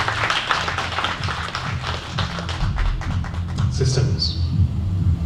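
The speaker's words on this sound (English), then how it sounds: "Let's give her another round of applause." Audience at an investment dinner clapping in a loose, uneven patter, with distinct individual claps close by, while voices talk over it.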